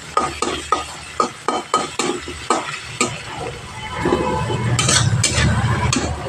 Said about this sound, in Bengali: একটু নুন হলুদ দিয়ে হালকা করে ভেজে নেব